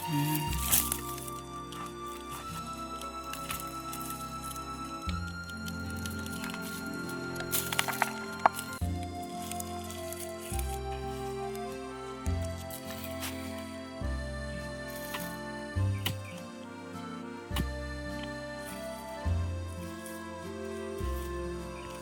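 Turmeric roots are dug out of village soil in Konkan, giving repeated heavy thuds and crunching, crackling earth in an uneven rhythm close by.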